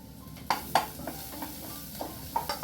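Snapper seasoned with salt and pepper is mixed in a pan for a creamy snapper pot pie. A utensil gives a few sharp clicks and scrapes against the pan over a soft, steady sizzle.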